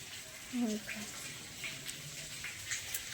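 A tap runs water for watering vegetables in a home garden, a faint steady gush with a few brief splashes and a short sound near the start.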